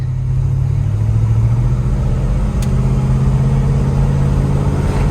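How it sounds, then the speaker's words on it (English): A 1965 Chevrolet El Camino cruises along, its engine and transmission giving a steady, loud low rumble heard from inside the car, with a slight rise in pitch as it pulls. "I like to just do a short cruise so you can kind of hear the transmission"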